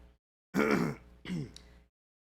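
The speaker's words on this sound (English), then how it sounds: "Now I'm just like coughing up all this stuff out of my lungs." A person clears their throat and hawks up phlegm from the chest: two harsh, rasping bursts close to the mic, the first longer and louder, then a brief click, with silence around them.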